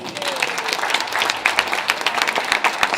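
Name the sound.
audience applause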